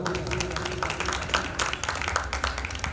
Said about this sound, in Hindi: देखिए, एक बार माता जी के लिए जोरदार ताली।